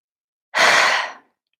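A single slow, breathy exhale through the mouth during a guided grounding meditation, close and fairly loud, lasting under a second before silence returns.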